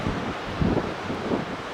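Wind gusts across the coast at Tintagel in Cornwall, a steady low rumble of buffeting against the microphone with soft swells, no voices.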